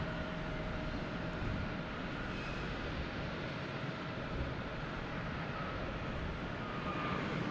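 An American Airlines airliner moving out at Boston Logan Airport, giving a low, even engine rumble heard from some distance, unbroken and fairly quiet throughout.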